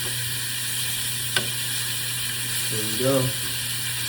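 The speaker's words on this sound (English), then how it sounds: "This one's gonna have a really good sear on it." Steak searing in a hot pan gives a steady, close sizzle under a man's brief speech, with a sharp clack near the middle.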